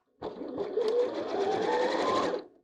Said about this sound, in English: simply sew along this top curve edge